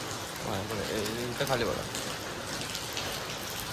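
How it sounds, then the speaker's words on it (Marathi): Heavy rain falling outdoors on a college-bound morning, a dense steady hiss beneath someone talking over it throughout. "आज असा मजबूत पाऊस आहे"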